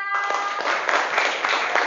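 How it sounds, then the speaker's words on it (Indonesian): Short burst of classroom applause, a scattered group clapping briefly and fairly close after a history lesson presentation. "Oke, kita beri tepuk tangan."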